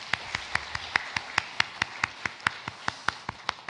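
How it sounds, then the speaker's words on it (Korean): A church congregation clapping in a steady, even rhythm, about seventeen crisp claps in quick succession, fairly close and clear with little else around. "영광의 박수 올려드립니다"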